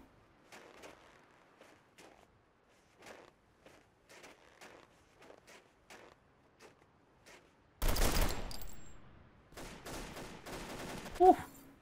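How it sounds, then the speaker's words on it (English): Loud weapon fire in the military shooter Delta Force Xtreme 2: a run of sharp, evenly spaced shots, then a dense, louder burst of rapid gunfire with crackling impacts and a final loud crack near the end. "Because I'm using a loud weapon now."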